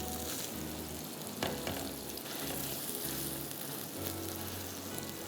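A smashed beef burger patty with onion sizzles steadily in a hot pan, a dense continuous hiss with a brief press or scrape partway through, close and fairly loud with no talking.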